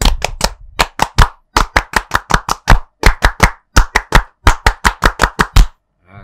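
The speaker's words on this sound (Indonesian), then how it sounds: "2 kali tepuk pramuka." Two rounds of Indonesian scout-style rhythmic group clapping, the tepuk pramuka, crisp and loud, each round a patterned burst of sharp claps in quick, syncopated groups with short pauses between, ending abruptly.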